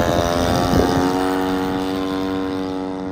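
A radio-controlled P-51 hybrid model plane with a DLE20 gas motor on its maiden flight makes a loud, steady, high-revving buzz that holds constant and fades slightly toward the end, with no talk over it.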